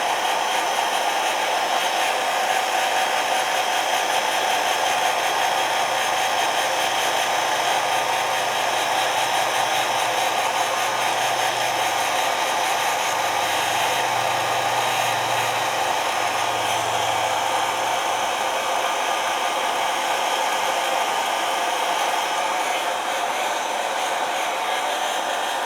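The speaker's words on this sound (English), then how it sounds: "With the hair dryer, you can hold it a little bit longer on the plastic" A hair dryer heating plastic on a model build blows with a steady, unbroken whooshing roar for the whole stretch, with faint low rumbles underneath.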